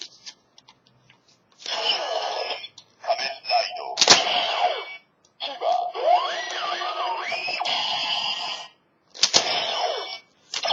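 Decadriver toy belt plays the Kiva transformation effect in electronic bursts, with whooshing, gliding tones, clicks and sharp hits separated by short silences.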